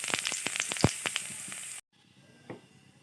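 Cumin powder crackles and sizzles in lightly heated mustard oil, a dense close frying hiss with sharp pops that cuts off abruptly, then a faint quieter sizzle with one brief stir.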